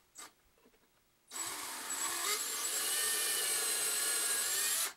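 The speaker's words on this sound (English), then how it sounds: "Let's pre-drill our holes." A power drill bores pilot holes for screws into wood during a grinder slider build: a few faint knocks, then one steady, close, whining run of drilling that lasts about four seconds.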